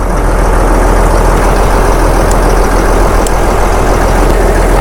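Boat engine running steadily at close range, a loud continuous low rumble with broadband noise filling the whole stretch and no talk.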